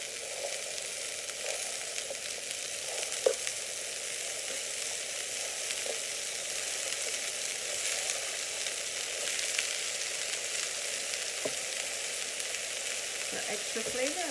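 Pieces of beef browning in a hot pan for Caribbean-style black soup, a steady close sizzle and fry with occasional soft stirring clicks, no talking.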